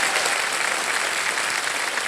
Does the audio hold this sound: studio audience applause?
yes